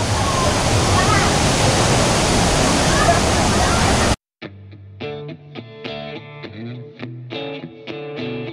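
Lintungan Falls in Nueva Vizcaya roars as a dense, steady rush of falling water for about four seconds before it abruptly gives way to music.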